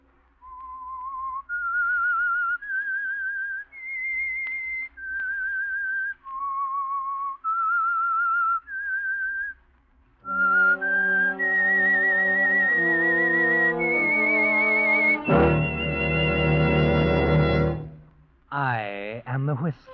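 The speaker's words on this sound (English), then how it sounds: "That whistle is your signal for the Signal Oil Program" The Whistler radio program's signature theme is whistled alone as a slow, eerie rising-and-falling melody, then answered by a fuller orchestral swell with a swooping finish.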